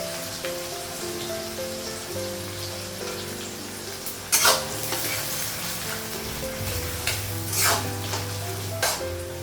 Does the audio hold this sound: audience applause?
no